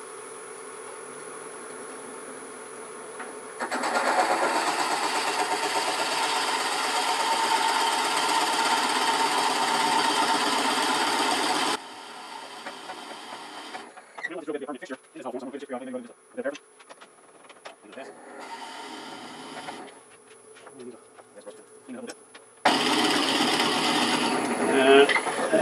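A wood lathe turning slowly while a Forstner bit drills into a small hollow wooden form, giving a steady buzzing whine that stops and starts with intermittent scraping and clatter between passes.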